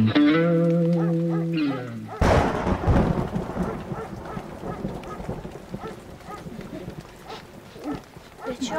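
A sudden loud crack of thunder breaks in and rolls on into a rumbling downpour of rain, following a brief sustained tone at the start.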